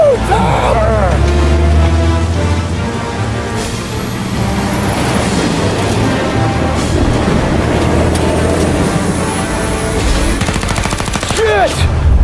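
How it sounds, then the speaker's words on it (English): Dense gunfire rattles through a shootout in Mafia: Definitive Edition, with loud overlapping shots and bursts over rumbling vehicle noise. "Shoot out their gun when there's a break in the fire!"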